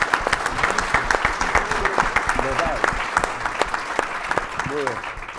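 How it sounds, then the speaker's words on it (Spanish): Steady audience applause at a panel discussion on economic and labor crime law, dense clapping sustained throughout with a few voices faintly mixed in. "Un aplauso para ella también."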